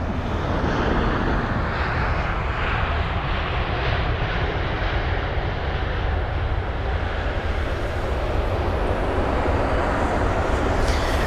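An Airbus A320 landing at London Heathrow, a steady loud roar of jet engines with broadband rumble sustained throughout, no voices.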